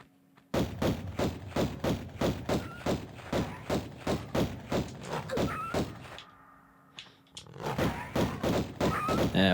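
Rapid, heavy gunshots fire in a steady repeating rhythm in Tomb Raider Remastered, loud and close, pausing briefly before another volley of shots resumes.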